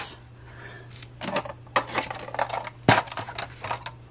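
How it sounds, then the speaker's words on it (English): Scissors snip through paper while fussy-cutting around a seahorse shape for a flip-up banner, a few close, crisp cuts with rustling in between, no talking. "So I'm going to cut him out."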